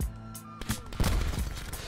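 In a sniper-focused shooter video game, several sharp gunshot cracks burst close and loud over an ongoing game soundscape, clustered in a quick volley with a brief tonal hum beforehand.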